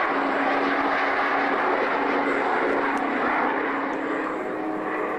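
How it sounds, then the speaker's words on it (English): Steady, broad roar of a fixed-wing aircraft engine from a recording over 30 years old, constant and fairly loud throughout with a faint sustained tone underneath, no talk. "Let's hear the sound of the aircraft."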